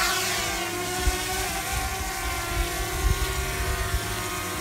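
A DJI Mini 2 drone lifts off with a steady, close propeller buzz and whine that holds level throughout, with no talk.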